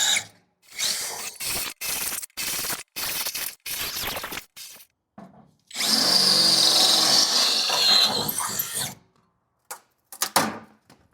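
A power drill with a cheap drill bit bores into a Ford F-100 truck chassis during a chassis swap, first in short, stuttering bursts, then one sustained loud grinding run of about three seconds, followed by a few brief spurts.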